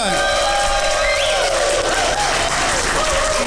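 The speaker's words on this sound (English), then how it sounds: "That's a laugh track." Canned crowd cheering and applause plays as a laugh track on a talk show about the SJR 500 RC boat race at Riverbend Resort, a loud, steady wash of clapping and whoops lasting throughout.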